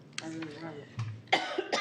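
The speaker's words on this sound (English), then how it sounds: "I have allergies, and I'm going to be coughing." A couple of short, sharp allergy coughs break through a murmur of voices and room noise at a board of directors meeting, fairly close, near the end.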